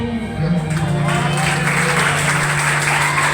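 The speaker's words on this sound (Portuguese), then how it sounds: "Bate palmas da glória para Deus." Steady applause from a church congregation fills a large room, loud and sustained, with a low sustained tone and voices mixed in beneath the clapping.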